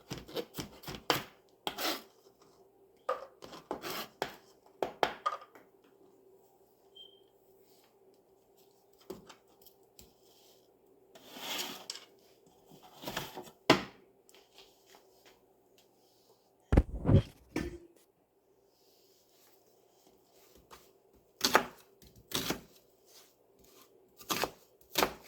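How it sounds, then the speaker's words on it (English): A knife roughly chopping an onion on a board, with scattered bursts of quick cutting strokes separated by pauses, fairly close and crisp over a faint background hum. "And I'll roughly chop the onion."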